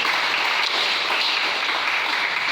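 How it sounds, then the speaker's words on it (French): A church congregation applauding and cheering together, a dense, steady wash of clapping that holds at an even, fairly loud level throughout, with no distinct individual voices standing out. "Est-ce qu'on peut acclamer le Seigneur?"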